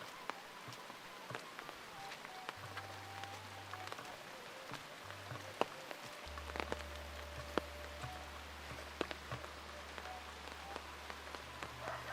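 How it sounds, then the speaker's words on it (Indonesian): Light rain patters steadily with scattered sharper drops, faint and distant, under a low hum that switches on and off. "Ternyata teh hujan."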